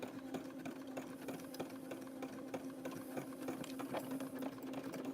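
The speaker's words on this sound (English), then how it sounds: "Just sewing it forward, backwards, turning it each time I do it" A sewing machine stitches trellis lace for a fabric bowl, a fast, even mechanical chatter of needle strokes over a steady motor hum, close and moderately quiet, with no talking.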